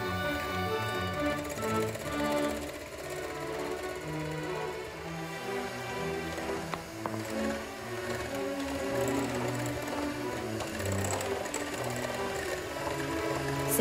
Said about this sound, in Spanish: Seguimos batiendo hasta blanquear las yemas